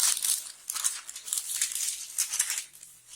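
Facemask fabric is folded by hand, giving a steady, close, crinkly rustle that swells and fades in uneven waves, with no voices.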